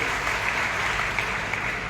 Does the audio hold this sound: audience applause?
yes